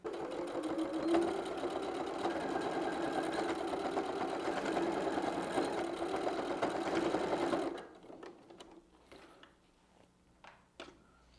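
A sewing machine runs in one steady, close stitching burst for about eight seconds while a handbag is sewn, then stops, leaving soft handling clicks and taps.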